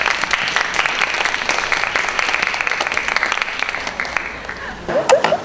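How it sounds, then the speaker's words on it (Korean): Applause from a high school audience at a student humanities festival in Korea, a dense, lively patter of clapping that runs for several seconds, then thins out with a few scattered claps and a short sound effect at the close. "큰 박수로 부탁드립니다."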